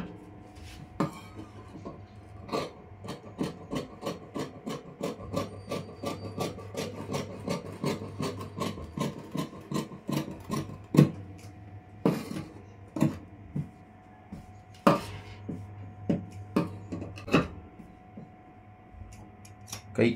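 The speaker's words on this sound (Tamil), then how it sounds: "ஸ்லீவ் கட்டிங் பண்ணிடுறேன்." Scissors cut blouse sleeve fabric in a steady series of crisp snips with short pauses between runs, close and fairly quiet.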